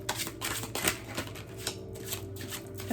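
Tarot cards shuffled in a steady run of soft papery riffles and slaps, close and continuous, with no talking over them.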